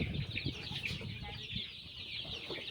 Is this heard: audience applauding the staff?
no